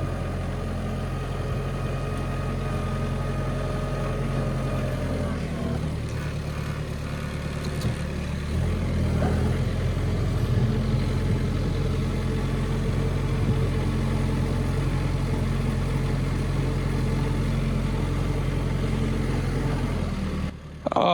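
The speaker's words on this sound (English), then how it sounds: "Ease up, just idling right in there." A truck engine idles with a deep, steady rumble for about twenty seconds, briefly shifting in tone partway through, with no one speaking.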